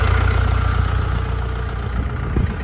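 Scout 404C tractor engine idling with a disc harrow raised on its hydraulics, a steady low throbbing rumble held close and continuous throughout.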